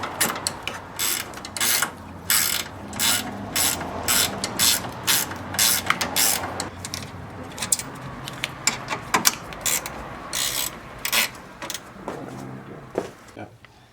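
A ratchet tightens bolts while the radiator goes back into a 2006 Nissan Xterra, giving loud, close bursts of rapid clicking that stop and start repeatedly throughout.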